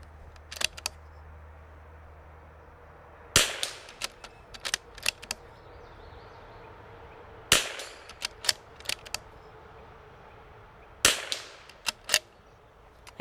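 Rimfire rifle (MCR RimX) fired with a Voodoo magazine, three sharp close gunshots spaced several seconds apart, each followed by quick metallic clicks and clatter of the action cycling and casings ejecting.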